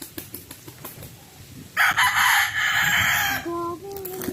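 Chickens and roosters at a wide coop, low clucking and murmurs before a loud rooster crow bursts in midway and lasts over a second, followed by a shorter call, all close by.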